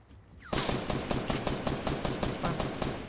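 Rapid automatic gunfire in the Fortnite video game breaks out after a short build-up and continues as a steady, loud burst of evenly spaced shots for about two and a half seconds.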